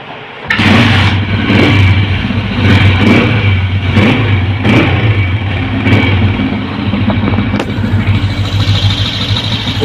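A Honda CG125 motorcycle engine revs loudly and steadily, sputtering and misfiring with irregular pops and stumbles through the revving, close by.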